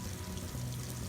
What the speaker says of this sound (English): there is the water coming out of the end of the pipe.